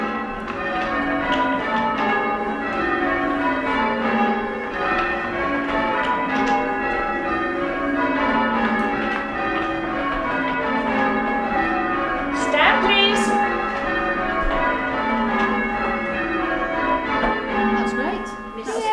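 Church bells in change ringing, moving from rounds into doubles, peal continuously with overlapping metallic strikes in a steady cascading rhythm, loud and close throughout.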